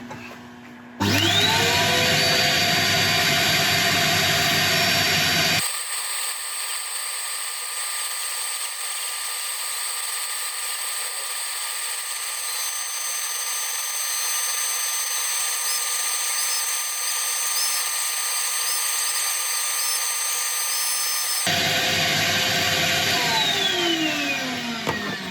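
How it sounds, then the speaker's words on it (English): A handheld Dremel rotary tool grinds and shapes the feet of a walnut bowl to sit flat, a steady high-pitched whine running unbroken for most of the stretch with a brief spin-up at the start and wind-down at the end. "I'm going to get out my Dremel, and with some more easy to use bits, I'm going to take this down so it's flat"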